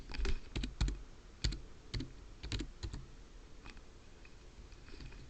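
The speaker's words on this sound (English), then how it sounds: "I think you might be able to hear that I am just putting in the password" Rapid computer keyboard typing of a password, several quick bursts of clicky keystrokes up close, then thinning out into occasional taps over a quiet room hum.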